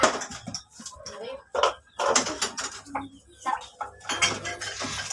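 Plates and dishes clatter and clink through handwashing in an informal challenge, sharp irregular knocks coming close, mixed with voices talking in the background.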